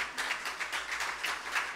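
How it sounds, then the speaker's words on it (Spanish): A church congregation applauds, a moderately quiet, continuous wash of many hands clapping at once, with a slightly distant, roomy sound and no clear voices on top. "yo quiero que le ofrezcas un aplauso a la presencia de Dios"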